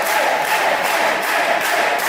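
Crowd cheering at an underground wrestling event, a loud, sustained roar of many voices echoing through the hall without a break.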